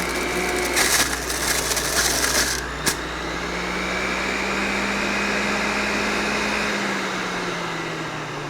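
A QCEN juicer crushing produce, a steady low mechanical grinding hum with a brief burst of crackling and snapping early on, then a smooth continuous drone that tapers off near the end.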